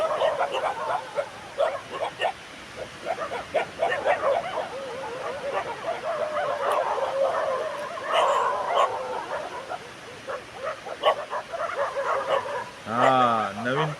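Dogs bark and yip in scattered bursts over a stretch of background chatter, ending with a drawn-out, wavering whine.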